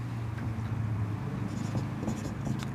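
Chalk scratching and tapping on a classroom board in short, close strokes during a science lesson, over a steady low electrical hum with no speech.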